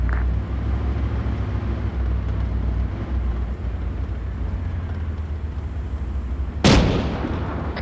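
A single sharp, heavy blast of tank cannon fire in a tank combat video game near the end, cutting through a constant low rumbling engine drone.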